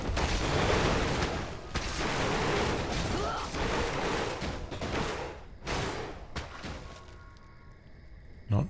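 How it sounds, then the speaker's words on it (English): Rifleman units fire volleys in a Warcraft III battle, busy crackling gunshots and thuds packed tightly together, loud at first and easing off toward the end, with no voice over them. "He's focus firing nicely with the Rifleman."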